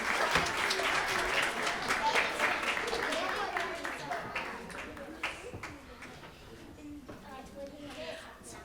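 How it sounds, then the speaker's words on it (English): An audience at a school music festival concert claps for performers leaving the stage, a full round of applause that starts loud and gradually thins and fades, with a few children's voices underneath. "Give them an extra round of applause as they leave the stage."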